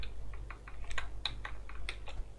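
Computer keyboard keys tapped in an irregular burst of about a dozen crisp clicks during PC play of the game Betrayer, close and fairly loud over a low steady hum, with no talking.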